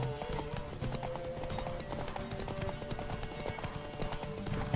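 Roach the horse gallops along in The Witcher 3, hooves clip-clopping in a steady quick rhythm at moderate volume under game background sound, with no clear speech.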